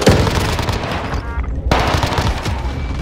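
Sustained rapid gunfire in an online shooter video game with a PPSh submachine gun, a loud, continuous crackling stream of shots with a brief lull in the middle.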